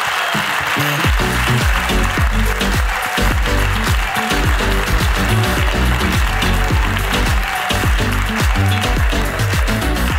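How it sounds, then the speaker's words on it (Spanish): Podcast audience applause mixed with loud, punchy music with a heavy bass beat, the clapping spread as a bright wash over the rhythmic track. "¡Aplauso para la ruina de Amaya!"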